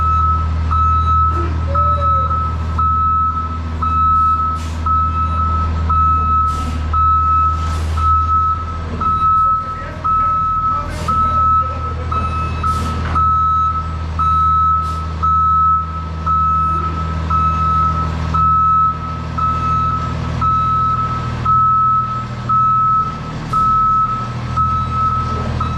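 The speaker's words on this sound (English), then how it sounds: "That backup alarm is loud." Snow plow truck's backup alarm beeping loudly and steadily, a regular train of sharp tones over a heavy idling diesel rumble.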